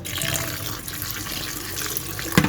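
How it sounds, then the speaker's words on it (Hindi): Cold tap water runs steadily from a faucet over freshly cooked pasta in a kitchen sink, a continuous close splashing rush with a brief louder splash near the end and no talking. "इसे उतार के ठंडे पानी से गुजारेंगे थोड़ा सा, ताकि ये स्टिक ना हो एक दूसरे के साथ।"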